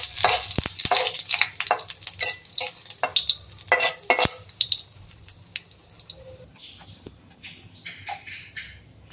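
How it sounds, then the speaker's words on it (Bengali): Chopped green chillies and onion fry in a pan with a soft sizzle, broken by sharp scraping and clinking strokes of a spatula stirring against the metal, busiest early and thinning toward the end. "এখন এই ঝালকাটাকে একটু ভেজে নেব।"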